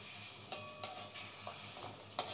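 Rohu fish kalia, a Bengali curry, is flipped and stirred in a pan, with a few sharp scraping clicks of the spatula over a faint sizzle.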